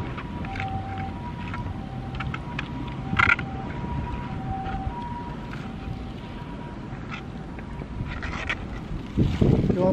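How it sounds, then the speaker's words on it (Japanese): Strong gusty wind buffeting a microphone on a seaside beach on Yoron Island, low rumbling bursts throughout with faint background sounds and a louder thump near the end. "やっぱり風が強いから"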